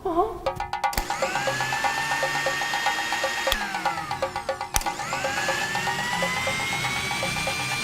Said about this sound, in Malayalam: അടുക്കളയിൽ മിക്സി ഓണായി